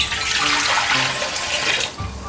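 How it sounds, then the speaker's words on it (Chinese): Water pours steadily from a tap into a wok for steaming, a continuous close rushing splash lasting a couple of seconds before easing. "锅中加入适量清水"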